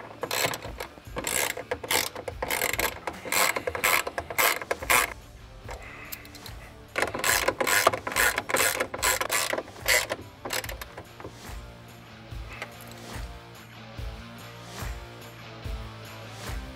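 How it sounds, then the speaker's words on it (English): Bolts on a Trektop soft top for a 4-door Ford Bronco are tightened down with a ratchet, giving bursts of rapid clicking separated by short pauses, close and fairly loud, then quieter mechanical rattles as it ends. "we're going to go ahead and tighten these bolts down"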